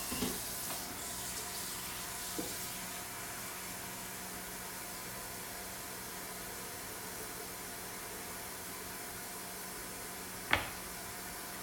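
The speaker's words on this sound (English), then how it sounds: "Put some water in this bowl" Water running from a tap into a bowl, a steady, faint rushing flow that holds constant, broken by a couple of small clinks and a sharper knock near the end.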